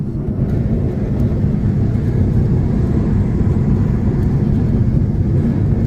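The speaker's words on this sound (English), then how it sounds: "We're experiencing some turbulence before landing." Inside a small airplane cabin on approach to Johannesburg in turbulence, a loud, constant low engine and airflow roar fills the space, steady throughout.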